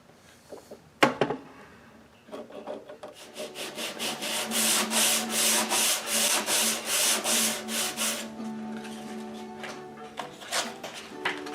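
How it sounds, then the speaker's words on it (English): Steady rhythmic rasping of sandpaper rubbing back and forth on wood of a Gretsch Van Eps guitar under restoration, a run of regular strokes after a knock, fairly close and unaccompanied by talk. "Sanding is my life."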